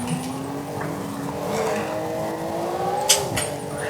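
A car in a driving video game, tuned with traction control and ABS, revs its engine steadily with rising and falling pitch, and a brief sharp knock or tire noise cuts in near the end.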